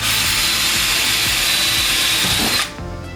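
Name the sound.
drilling holes with a drill bit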